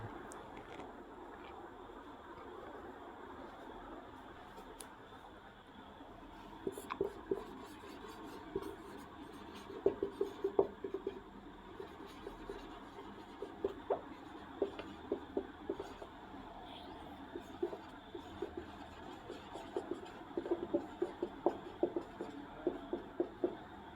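Pen or chalk writing out a sentence, with faint, irregular scratchy strokes and small taps coming in clusters over a steady low room hum, quiet and close, with no talking.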